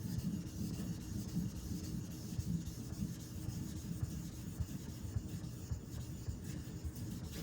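A Karaku AS gyuto 210mm kitchen knife is worked across a whetstone with a slurry, giving a steady low rasping grind that continues without pause, faint and close, with no voices.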